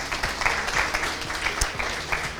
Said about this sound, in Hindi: वेलकम स्पीच के लिए इनको जोरदार तालियां दिया जाए।